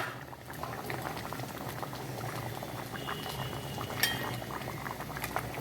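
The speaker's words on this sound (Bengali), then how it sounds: "তো ডিমের ঝোলটা হয়ে এসছে" Egg curry bubbles in a pot, a close, continuous busy patter of boiling with a sharp utensil clink near the end, and no talking.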